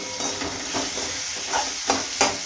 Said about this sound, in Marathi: थोडीशी कोथिंबीर आहे म्हणजे त्याच्यामध्ये टाकते, थोडीशी, म्हणजे तेलामध्ये छान परतते